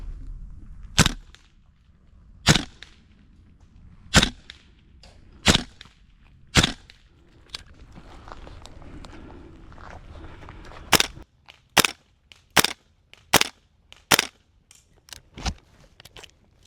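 Sharp, loud cracks of HK416 gas blowback airsoft rifles from VFC Umarex and Tokyo Marui, spaced single shots early on, then a quicker run of closely grouped shots near the end.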